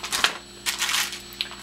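Hard frozen Brazilian cheese bread (pão de queijo) rolls being dropped and shuffled into a plastic bag, giving soft crinkly rustles in a few short bursts, close and fairly quiet, with no talk.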